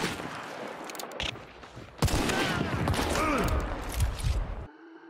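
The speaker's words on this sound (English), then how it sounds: "let you hear the difference between a headshot and a normal shot" Gunfire from the Hunt: Showdown video game, comparing a headshot with a normal body shot: a few sharp loud cracks early, then a dense burst of booming shots and reverberating echoes that cut off abruptly.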